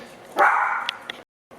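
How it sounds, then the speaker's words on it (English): A pet dog gives one short, loud bark close by, followed by a quick yip, then silence. "If you hear my dog barking"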